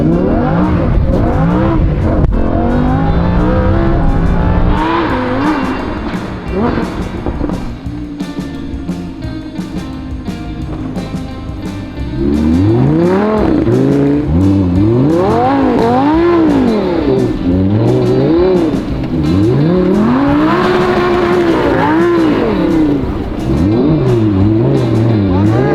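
A powerful Lamborghini engine revs repeatedly, pitch climbing and falling in loud, close sweeps, with a quieter idle stretch in between.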